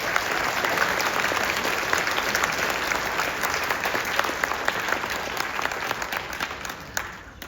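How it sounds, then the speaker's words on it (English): Warm, steady applause from an audience at a school spring songwriting concert, many hands clapping at once in a thick, continuous burst that tapers slightly near the end. "Kids, how about a huge round of applause for your teachers and paras?"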